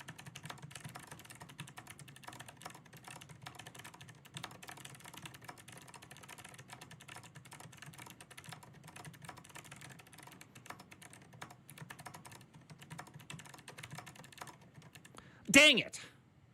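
Typing on a computer keyboard, a rapid continuous run of close, light key clicks for the whole stretch, ending with a brief louder knock.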